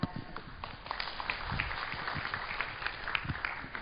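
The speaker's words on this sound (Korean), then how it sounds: "강연하느라 수고해주신 이스트 시큐리티의 문정현 센터장님께 다시 한번 박수 부탁드리겠습니다." Audience applause for a speaker at the close of a malware-analysis talk concert, a dense, steady patter of many hands clapping at moderate distance, fairly faint and sustained throughout.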